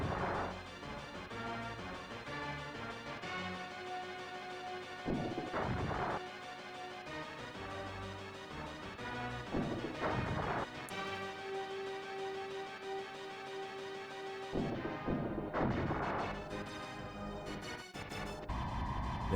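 Rocket attack explosions in the SNES strategy game Metal Marines, heard as several short, booming bursts scattered over constant chiptune background music.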